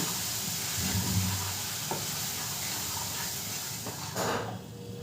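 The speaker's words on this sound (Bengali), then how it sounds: "গ্যাসের ফ্লেমটাকে মিডিয়ামে রেখে অনবরত এই চিনিটা নাড়ব। চিনিটার একটা ক্যারামেল তৈরি করে নেব।" Sugar being stirred constantly in a pan over a medium gas flame as it turns to caramel, giving a close, steady hiss and sizzle with faint scraping underneath, and a brief louder burst near the end.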